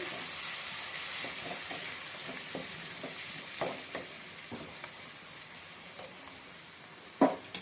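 Chopped coriander is stirred into a high-protein rice pongal in a pan, giving a soft continuous sizzle with scattered light scrapes of a spoon and one sharper clink near the end.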